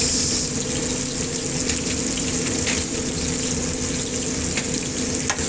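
Tomatoes and carrots sautéing in a pan for shrimp paste (alamang), a steady, close, loud sizzle with faint stirring, no voices.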